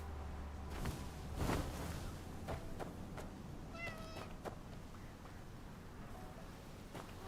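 Cat meowing in the open-world wuxia video game Where Winds Meet; a few short, clear meows stand out above the game's steady ambient background.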